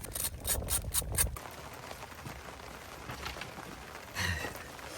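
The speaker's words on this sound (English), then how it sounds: "Really starting to rain now" Steady patter of rain falling on a surface, with a few louder knocks and rustles near the start and a brief scrape later on.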